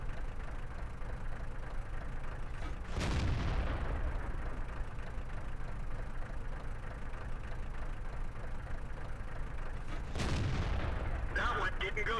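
STA-1 tank cannon firing in World of Tanks, two heavy booming shots several seconds apart over a steady engine rumble, with talk throughout.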